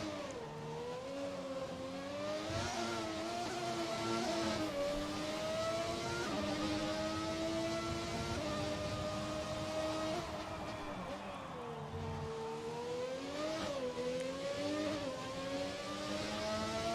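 Ferrari Formula 1 car engine in an F1 video game at historic Monaco, a steady high-pitched whine rising and falling as the car accelerates and shifts, continuous and fairly loud throughout.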